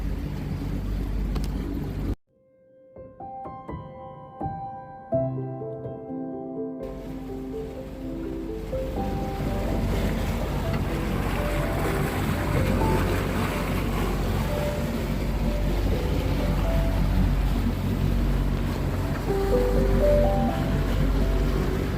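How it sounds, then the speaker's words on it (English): On Lake Huron, a sailboat motor sails through waves, with steady engine drone, wind and water rushing against the hull, after a brief quiet gap broken by a few faint tones early on. "And yes, I'm motor sailing."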